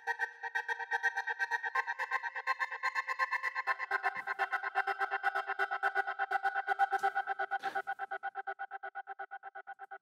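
Sustained choir chord chopped into rapid rhythmic pulses by a sidechained gate in a breakbeat track, opening and closing steadily, with a fading tail toward the end.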